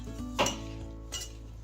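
Kathiyawadi bharelo rotlo masala filling, with butter added, is mixed by hand in a bowl. Two faint clinks against the bowl stand out, spaced almost a second apart, over a quiet background hum.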